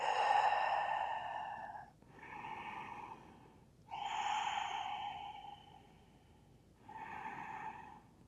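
Slow, deep breaths heard up close during a held seated forward fold in yoga, four long airy exhales and inhales with a breathy, sighing tone, each lasting a couple of seconds with brief pauses between.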